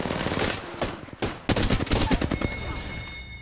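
Rapid gunfire from weapons in Apex Legends, a dense burst of closely spaced shots that thins into scattered cracks, loud and near.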